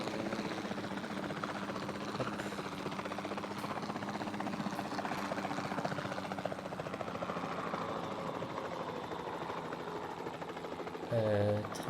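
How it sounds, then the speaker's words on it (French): A helicopter in the Jurassic World video game flies with a steady, dense rotor and engine drone throughout, unchanging in loudness, with a brief tonal blip right at the end. "C'est pas facile à contrôler, un hélico."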